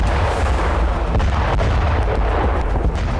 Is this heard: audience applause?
no